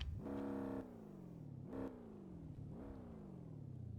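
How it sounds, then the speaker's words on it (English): A modded custom car engine in a video game revs three times, each sharp rise in pitch falling away into a steady idle, heard alone at moderate loudness. "And now this one has got a custom engine sound."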